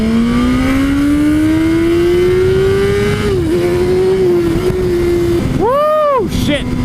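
A 2017 Suzuki GSX-R 1000R sport motorcycle accelerates hard, its engine note rising steadily through the revs with brief gear-change dips, loud and close with wind rush, and a rider's voice briefly heard near the end.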